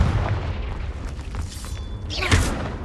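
Confringo blast spell explosion from the Hogwarts Legacy video game, a loud burst with a sharp crackling hit and bright fizzing tail near the end, set against a busy rumbling background of game effects.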